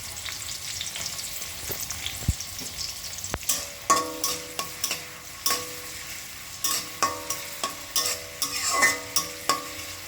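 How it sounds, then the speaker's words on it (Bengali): Chopped onion hits hot oil flavored with garlic and is stirred, a steady frying hiss beneath a run of sharp, rhythmic spatula scrapes against the pan that grows busier midway, close and clear. "রসুনের খুব সুন্দর ফ্লেভার ছড়ালে পেঁয়াজ কুচি ছেড়ে দিচ্ছি"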